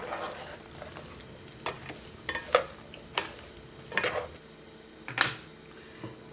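Vegetables including cauliflower florets being stirred and mixed in a pot for a mixed vegetable paneer masala curry, with intermittent scraping and clattering strokes over a light sizzle, close and moderately loud.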